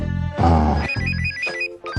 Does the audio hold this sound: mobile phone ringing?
yes